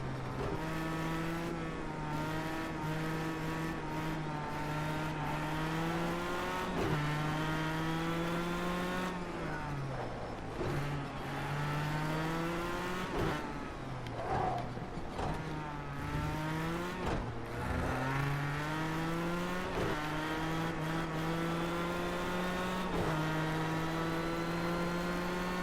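GTE race car in a racing video game, engine droning and climbing steadily through repeated upshifts and downshifts, loud and continuous throughout with no talk.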